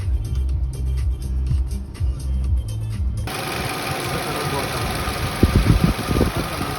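A Nissan Rogue engine idles after a valve adjustment, with a steady low running hum and slight changes partway through. Some background noise and voices may sit under it.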